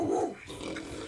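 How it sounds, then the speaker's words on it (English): Dog in a radio studio making a short, gruff growl-like bark, fairly close and moderately loud against background room noise, with no one talking. "I think your dog's barking."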